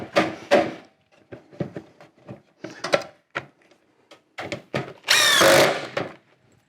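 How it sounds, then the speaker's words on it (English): A power drill drives screws into a wooden buck in short bursts, several brief whirring pulses followed by one longer, louder run near the end, close by with quiet gaps between. "So put a few screws in here"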